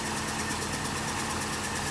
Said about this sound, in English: I'll leave the car running for a little while